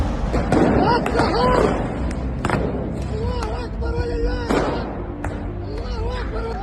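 Scattered sharp bangs and pops of firecrackers fired during a riot echo amid shouting voices, with one or two louder cracks standing out.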